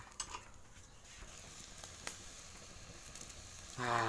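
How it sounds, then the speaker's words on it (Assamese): A pot of Assamese village-style fish curry coming to the boil gives a faint, continuous bubbling sizzle with scattered small pops, quiet and close, growing slightly livelier at the end. "মাল উতলিবলৈ লাগিছে"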